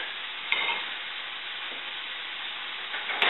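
Canned tuna mashed into browning vegetables in a hot pan, a constant close sizzle and hiss with a couple of louder scraping bursts from the spoon near the start and again at the end, with no voices.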